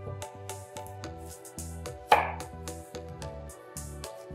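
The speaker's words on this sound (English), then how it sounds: "Zucchini, I need to cut that lengthwise." A knife slicing a zucchini lengthwise on a cutting board, giving a run of regular crisp chopping taps, close and clear, with one louder cut partway through.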